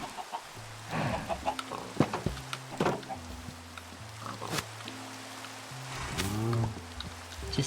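Chickens cluck repeatedly in Minecraft, their blocky game-animal calls coming in short bursts throughout, with a sharper squawk near the end over light background game sounds.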